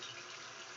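Tap water runs steadily into a sink during handwashing, a soft continuous hiss and splash that stays faint and even throughout.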